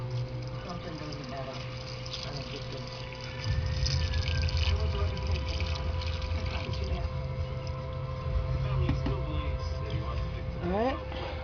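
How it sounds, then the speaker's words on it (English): Water pours steadily into a deep water culture hydroponic container, a continuous splashing flow that starts partway through, with a person talking over it. "So we're just going to pour this water right over."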